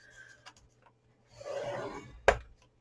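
Paper being scored for a baby gift box, a short scraping drag of the scoring tool followed by a sharp tap, quiet and close in an otherwise still room.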